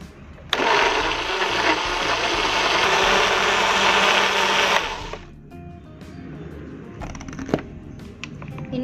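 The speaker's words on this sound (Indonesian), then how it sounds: "Kita tambahkan air secukupnya untuk memblender." A kitchen blender grinds spices with water for crab curry in a steady, loud whir of about four seconds. It then cuts off, leaving quieter clinks and handling sounds.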